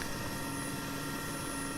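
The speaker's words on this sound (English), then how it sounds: "Now the engines are spooling." Mi-8MTV helicopter engines spooling up in a flight simulator, a steady loud turbine whine and rotor rumble that holds constant throughout with no talking.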